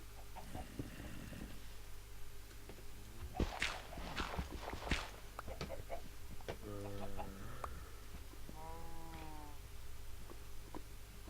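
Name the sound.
chickens clucking in a video game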